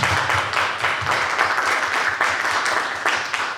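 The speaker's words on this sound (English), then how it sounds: "Let's give him another round of applause." A film festival Q&A audience in New York claps steadily for a guest, with dense, sustained applause filling the room from start to finish and no speech over it.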